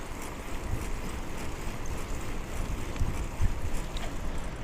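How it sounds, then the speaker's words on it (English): Steady wind rushing past while cycling, a constant low buffeting roar across the microphone with occasional thumps, continuous and fairly loud. "There is quite some wind."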